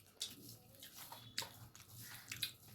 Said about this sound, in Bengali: এই যে কাঁচা কচু বাটা খাচ্ছি